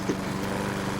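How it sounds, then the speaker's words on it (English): Lawn mower engine running close by, a steady, loud droning hum that holds without a break through the whole second. "Man, that lawnmower is getting super close."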